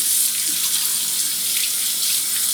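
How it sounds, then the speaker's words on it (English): Water streaming steadily from an LG dishwasher spray arm under a tap, a loud, continuous close-up rush and splash with no talking. "you can just see the water kind of should come out free flowing"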